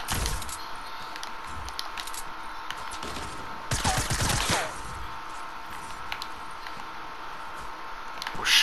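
Sniper gunfire in the video game Fortnite, a sharp burst of cracking shots near the middle over a steady wash of game noise, with other faint snaps scattered around it.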